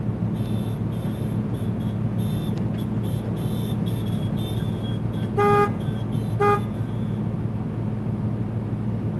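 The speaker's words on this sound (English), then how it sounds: "I was honking for the forklift driver." A truck horn gives two short, loud toots about a second apart, close by, over a constant low engine rumble in a busy industrial setting.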